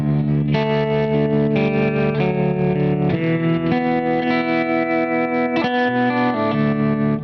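A lap steel guitar tuned to open D strums a steady progression of sustained chords, loud and close with chorus and distortion coloring, each chord ringing into the next with occasional slides between them.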